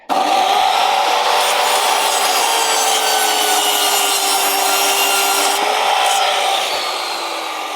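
A power saw rips steadily through a length of wood for several seconds, a loud continuous buzzing cut with a brief dip in pitch partway through, trailing off slightly at the end.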